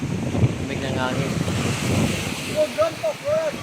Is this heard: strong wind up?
yes